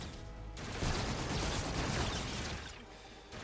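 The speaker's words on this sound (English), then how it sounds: "I'm gonna shoot all your asses right now." Sustained burst of gunfire in the video game Call of Duty: Infinite Warfare, a dense rattling fusillade lasting a few seconds after a short quieter lead-in, loud and close, with no talk over it.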